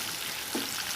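Chopped garlic frying in a pan for papaya dal gives a soft, continuous sizzle that stays even throughout, with no talking.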